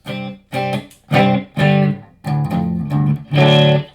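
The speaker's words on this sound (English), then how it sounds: "let's check out the reverb" An electric guitar plays through a Laney IRT 30 amp with reverb, six strummed chords in bursts, each ringing briefly with a short wash of decay; loud, close and alone.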